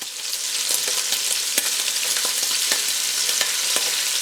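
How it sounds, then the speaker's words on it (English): Ingredients for one-pot Cajun shrimp sausage pasta sautéing in a pot, a constant bright sizzle with scattered pops and scraping stirs up close, no talking. "I want it to brown a little bit. So I'm going to saute these for a little while."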